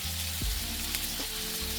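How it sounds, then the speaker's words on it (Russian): Chicken fillet and beef sizzling hard in a spoonful of melted butter in a frying pan, a steady loud crackle with a couple of scraping stirs. "На той же сковороде в столовой ложке топленого масла хорошо обжариваем куриное филе с говядиной."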